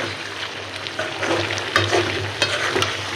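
Bottle gourd stir-fried in a pan, a steady frying hiss broken by scraping stirring strokes that land in irregular bursts, close and moderately loud with no talk.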